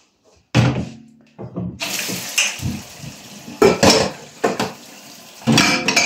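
A kitchen sink tap runs in bursts as dishes are washed, with clinking pots and cutlery and splashing water, close and fairly loud.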